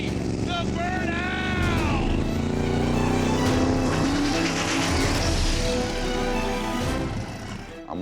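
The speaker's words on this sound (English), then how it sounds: "Let's see the burnout!" A pro mod drag race car does a burnout at a drag strip, its engine roaring loud and steady with tire squeal, while an announcer or crowd voices run over the top.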